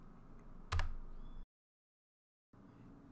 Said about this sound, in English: So I will press escape to close the function.